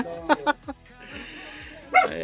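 A dog gives a few quick barks, then a pause, then another bark, with faint voices and household noise in the background.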